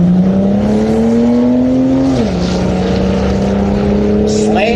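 A Mopar Slant 6 drag car launches loud and close at a drag strip, its engine holding a steady drone before the pitch drops as it shifts and pulls away, with announcer speech over it.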